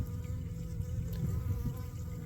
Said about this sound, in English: here's our local killer bees stealing my water